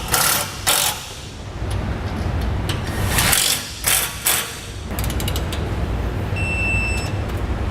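A hand ratchet tightens the bolts on the plate of an Air Lift LoadLifter 5000 rear air helper spring, giving bursts of close, fast metallic clicking separated by short pauses, with a faint high electronic whine near the end.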